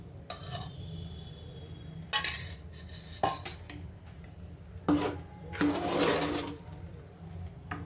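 Utensil scrapes and clinks against a pot as ghee is stirred into vangibath, an eggplant rice dish, with a few distinct knocks and a louder scraping stretch over a low steady background.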